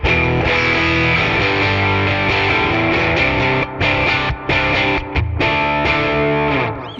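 Electric guitar through an overdriven 5E3 Deluxe amp model on the bright channel plays a thick, continuous run of gritty chords, loud and dense, with only brief gaps near the end.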